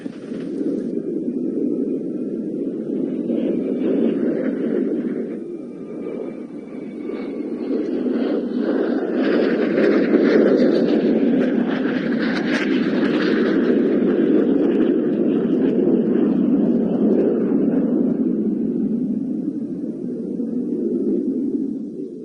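An attack jet flying an aerobatic display at the Cosford airshow gives a continuous, distant engine roar and rumble that swells and fades as it passes overhead, with no talking.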